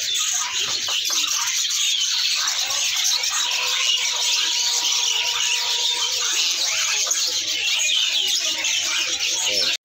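Continuous bright black-winged myna calls and chirps from a young bird at a bird shop, loud and close, repeating without pause over a faint background hiss.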